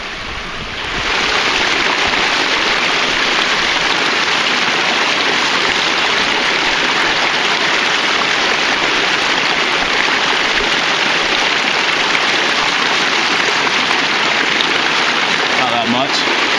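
Steady broadband rush of creek water running outdoors at a bushcraft campsite, constant and close, swelling slightly after the first second and continuing without pause.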